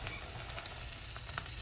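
A loaded omelette sizzles steadily in a hot pan just after being flipped, a close, even frying crackle with small pops and no voices.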